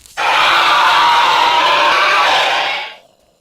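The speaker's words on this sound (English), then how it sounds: "let's listen to, first of all, the long scream" A long zombie scream for a game, a single loud harsh sustained cry of about three seconds that cuts in abruptly and fades out at the end.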